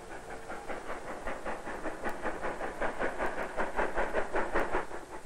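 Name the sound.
train coming into Ohrid station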